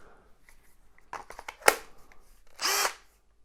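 A Makita drywall screw gun gives a few quick clicks and handling knocks, then one short, loud whirring burst of the motor near the end.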